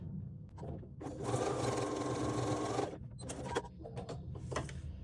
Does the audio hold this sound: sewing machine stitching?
yes